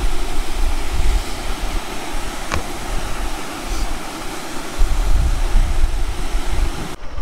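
Loud, steady roaring rush of a waterfall on the road to Manang, Nepal, broadband and continuous, close by with no voices.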